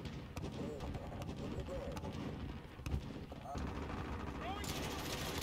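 Gunfire in a first-person shooter, a steady stream of rapid shots crackling under dense game noise, with a louder burst near the end; a voice talks over the action.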